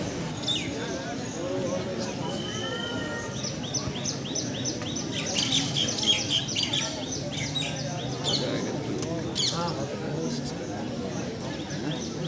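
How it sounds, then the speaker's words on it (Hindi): Small birds chirp and tweet in quick bright bursts outside Mankameshwar temple in Prayagraj on a crowded Sawan Monday, layered over a dense hum of devotees' chatter and crowd noise. "यहाँ पर चिड़ियों का चहचहाहट"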